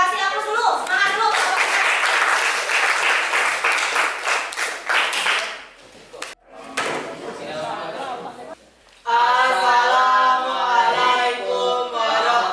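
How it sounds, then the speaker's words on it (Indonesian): An audience claps for a student group called up to present in a classroom, a dense burst of applause mixed with chatter that fades out, followed by a person speaking. "Kita kasih aplaus dulu, semangat dulu."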